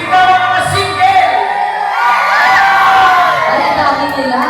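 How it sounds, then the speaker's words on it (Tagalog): A crowd of singles at a barangay night by San Fabian beach in Pangasinan yells and whoops together in a loud, sustained burst of cheering, with a host's amplified voice over it. "Sumigaw ang mga single!"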